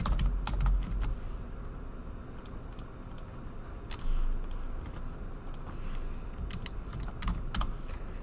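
Typing on a computer keyboard while entering a formula in Excel gives quiet, irregular clicking keystrokes over a low background rumble, with no talk.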